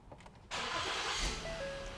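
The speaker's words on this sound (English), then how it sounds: "It says to start the engine and let it idle." A car engine cranks and catches about half a second in, then holds a steady, close idle for the rest, ready for an evaporative emissions system test.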